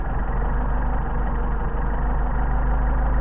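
A Mercedes 190SL engine with Solex carburetors idles steadily up close, a low, even rumble with a faint uneven lope, continuous and alone with no voices.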